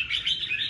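A purebred red-whiskered bulbul, freshly moulted, gives a quick run of bright, clear chirps close by, repeating rhythmically in a short burst with no talking.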